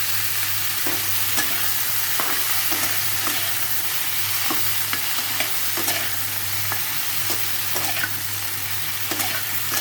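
Bitter gourd and potato frying in hot oil, a steady close sizzle with regular stirring taps and scrapes of a spatula throughout, no voices.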